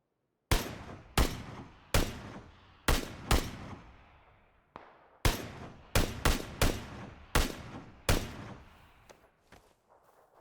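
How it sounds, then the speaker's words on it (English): Single gunshots in PUBG on the remastered Erangel map, about a dozen sharp, loud cracks fired in irregular bursts, each trailing off in a long echoing decay, with no talk over them. "I heard some shots outside"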